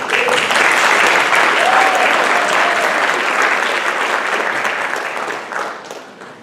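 Sustained applause from an audience at a high school board of education meeting, loud and dense from the start, then thinning and fading out near the end.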